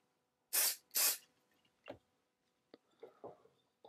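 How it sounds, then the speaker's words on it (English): Two short, sharp hissing bursts of CA glue accelerator from a spray nozzle while repairing a broken wooden chair, followed by a few quiet clicks and handling noises. "I'll just spray the accelerate on the side here."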